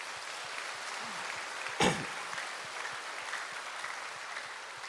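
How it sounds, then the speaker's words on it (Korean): A church congregation applauds its choir with steady, fairly quiet clapping spread through the room, broken by one brief louder knock partway through. "우리 한번 격려 박수 부탁합니다."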